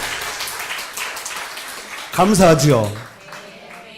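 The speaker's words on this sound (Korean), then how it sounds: "박수죠, 박수. 박수." A church congregation breaks into applause, a soft spread of clapping heard under a voice that speaks prominently partway through, fairly close and moderate in level.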